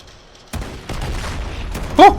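Gunfire in the video game Modern Warfare rattles in bursts of loud, close shots over about two seconds, ending in sharp pops mixed with tonal game sound effects.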